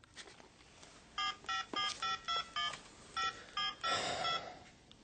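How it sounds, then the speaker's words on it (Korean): Keypad tones from a folding mobile phone as a number is dialed, about ten short evenly spaced beeps followed by a brief burst of noise, heard alone. "핸드폰 폴더를 열고 여자친구의 번호를 몇 번이나"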